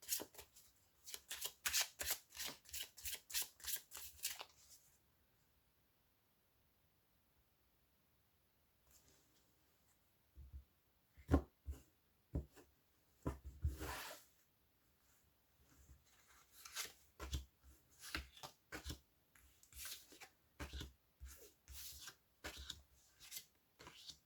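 Tarot cards being shuffled by hand in quick rippling bursts, a first run of riffles, a silent pause, then further bursts of shuffling and card handling, close and quiet.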